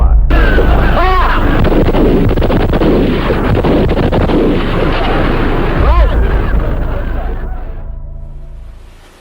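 Sustained heavy gunfire and booming blasts at a military shooting range in Accra, Ghana, rolling loudly and continuously for most of the stretch before fading near the end, with a voice briefly heard amid the noise.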